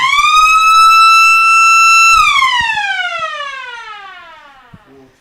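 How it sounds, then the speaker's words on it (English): The final siren at an Australian rules football match blares loudly and steadily, then slowly falls in pitch and fades away. "It's the final siren sounds."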